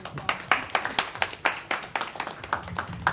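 Scattered hand claps from a small panel-discussion audience, a handful of distinct sharp claps spaced irregularly across the moment, fairly quiet and thin rather than a full ovation.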